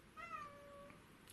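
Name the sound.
cat meowing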